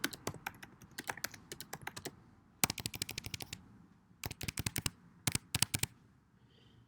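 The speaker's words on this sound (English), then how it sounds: "And start typing your phrase." Rapid keystrokes on a computer keyboard come in quick clattering bursts separated by short pauses, close and fairly loud, with no voices.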